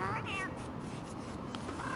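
A cat meows in the Don't Starve: Reign of Giants video game: a couple of short, clear, high meows near the start and another toward the end, over a steady layer of ambient game sound.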